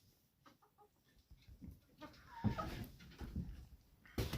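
Hens cluck in a coop freshly laid with new bedding, starting as sparse soft clucks and building into busier, nearby chatter and scratching toward the end.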